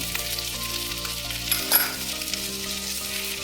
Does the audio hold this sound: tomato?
yes